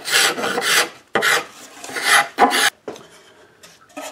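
A rasp carving and shaping a mahogany ukulele neck: several close, harsh filing strokes in uneven bursts with short pauses between them, then lighter scraping toward the end.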